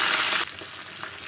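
Dal and peanuts with mustard seeds, cumin, fenugreek and curry leaves sizzle in hot oil in a pan, a brief close hiss that drops as the mix is stirred, with a scrape at the end.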